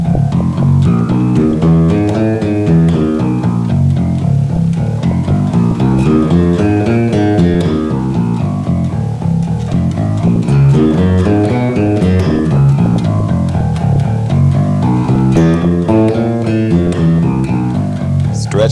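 An electric bass plays a slow finger exercise, a continuous stream of clear, evenly spaced single notes climbing and falling in repeating patterns, close and loud with no voice over it.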